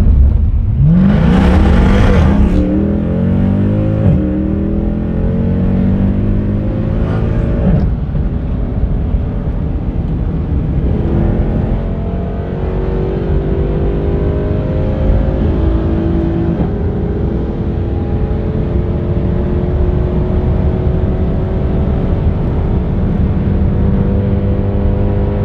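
A Ferrari Mansory's engine roars loud and close, a sharp burst of revving up front, then a sustained deep drone that rises and falls in long sweeps, alone with no voices.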